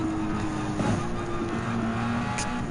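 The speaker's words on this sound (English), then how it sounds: "So I have to get behind on Daniel Solis and the Alfa Romeo 4C Group 4 around on turn 3 and 4 at the Dunlop chicane" In Gran Turismo 7, Group 4 race cars such as an Alfa Romeo 4C roar through the Dunlop chicane, a steady, loud engine drone with shifting pitch and a brief rising whine near the end.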